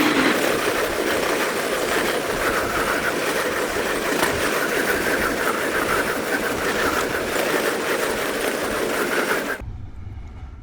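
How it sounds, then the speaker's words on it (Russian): A train passing on a railway line in the snowy Murmansk region of the Kola Peninsula, a loud, steady rumble and rattle of wagons very close by for about nine and a half seconds, then cutting off abruptly to quiet. "я впервые в жизни пропустил поезд, прямо стоя около железной дороги"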